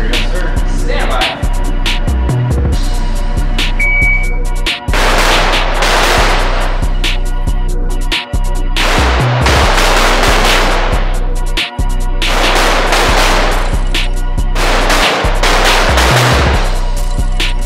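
A .308 rifle fires at a shooting range in loud, sharp cracks, several in sequence and spaced unevenly, each followed by a short echoing tail over a steady low background.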